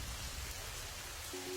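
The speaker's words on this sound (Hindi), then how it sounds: "बहुत तेज बारिश हो रही है" Heavy rain in a cartoon falls as a steady, even hiss with no pauses, moderately quiet and continuous throughout, with no voices.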